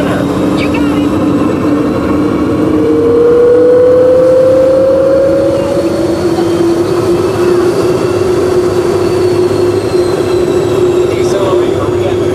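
An EPCOT Test Track ride vehicle speeds up with a steady loud mechanical roar and a rising whine, heard up close throughout while voices talk over it.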